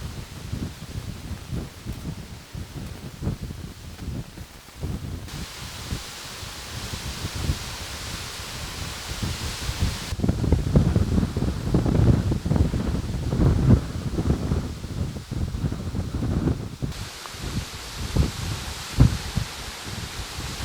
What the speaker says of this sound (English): Getting windy out, getting occasional gusts, very strong gusts.